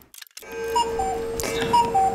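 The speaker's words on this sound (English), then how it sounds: "There goes the timer." A timer alarm in Leo's Fortune on PS4 goes off, a steady electronic ringing with beeping tones that starts after a short near-silent moment and carries on loudly with busy game sound underneath.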